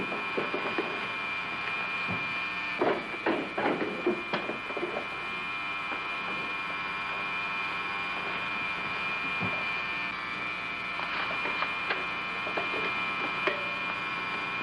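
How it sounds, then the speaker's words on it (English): A hidden camera whirs with a steady, even mechanical drone that runs unbroken throughout, overlaid by scattered faint ticks and light taps, with no one speaking. "Have to cover that whirring sound."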